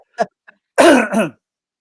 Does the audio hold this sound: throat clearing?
yes